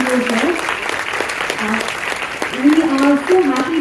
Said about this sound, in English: Can you all give a huge round of applause for Mr. Angelo?